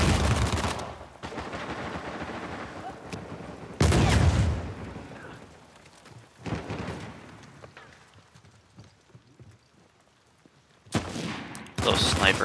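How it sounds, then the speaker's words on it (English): Suppressive gunfire during an Uncharted 4 multiplayer match, loud bursts of shots arriving in separate clusters with quieter gaps between, the last flurry near the end, and a player talking in between. "Suppressive fire"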